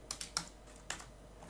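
A few faint, quick keystrokes clack on a computer keyboard, with a cluster of three clicks, a pause, then one more tap over a quiet background hiss.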